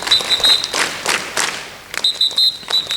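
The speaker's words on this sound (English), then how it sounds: "Welcome sir with big round of applause." Round of applause at a school Green Garland Day gathering, uneven bursts of clapping and thumps with a recurring high electronic tone near the start and end.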